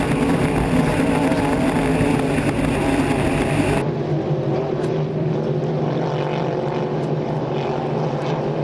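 A Hydro350 hydroplane racing boat engine drones loud and steady at a St-Félicien race heat, a dense roar that drops slightly in brightness partway through but keeps going without a break.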